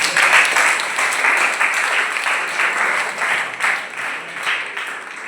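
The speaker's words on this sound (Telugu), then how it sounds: "వెరీ గుడ్, చప్పట్లు కొట్టారు." A group of children claps together in a classroom, producing a dense, steady round of applause that is loud and close and lasts the whole clip with small swells, with no talking over it.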